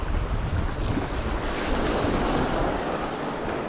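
Strong wind buffets the microphone at the sea shore while bass fishing with a topwater surf lure, a loud continuous roar with a broad wash of surf beneath and no voices.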